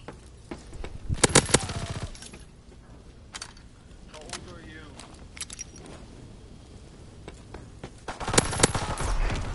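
A grease gun submachine gun fires in a video game in short bursts of rapid shots, loud and close, with quieter gaps between, while players talk over the action.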